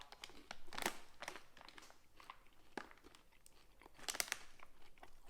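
A chocolate bar with caramel and crispy rice snapped in half up close, with crisp crackling crunches and crinkly rustles in irregular bursts, quiet and intimate.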